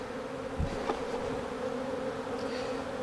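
Honeybees buzzing around an open beehive while splits are made with swarm cells, a dense continuous hum close to the microphone with occasional brief louder passes.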